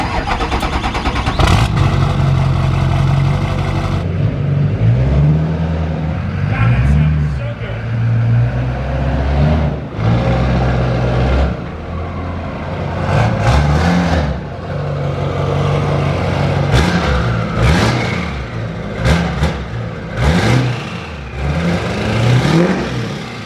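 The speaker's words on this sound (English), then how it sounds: "this Stealth 64 makes the LB7 just sound so sweet" A diesel LB7 Duramax truck fitted with a Stealth 64 straight-pipe exhaust rumbles loudly and deeply, its note swelling through repeated revs and settling back between them, while people talk over it.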